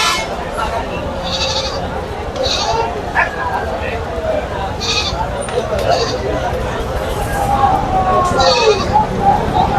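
Goats at a busy rural goat market in Chaugachha, Jessore bleat repeatedly, several calls rising over a constant crowd din and nearby talking.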